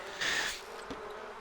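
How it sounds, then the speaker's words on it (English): Angry bees buzz in The Sims 4 video game, one short, bright swell of buzzing lasting under half a second, followed by a soft low thump, then quiet game ambience. "So now he's just checking it, and the bees are getting very angry."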